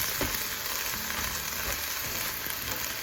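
Shrimp fry in a pan for Hawai'i-style long rice noodles with green onion, a bright, continuous close sizzle with faint stirring knocks and no talking.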